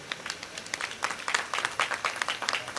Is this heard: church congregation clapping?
yes